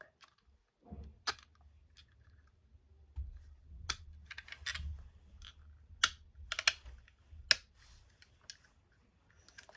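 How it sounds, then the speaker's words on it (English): A toy sound machine with a fake microphone gives off sparse, sharp plastic clicks and taps, several separate snaps over quiet handling noise with a low hum beneath, close and faint between hits. "You hear a click."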